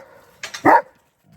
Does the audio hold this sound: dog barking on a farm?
yes